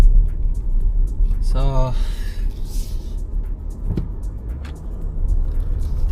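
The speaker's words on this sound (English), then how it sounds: "So guys, hopping onto the main road now." A 2025 VW Touareg R-Line SUV heard from inside the cabin as it pulls onto a main road, giving a steady low engine and road rumble under a person talking.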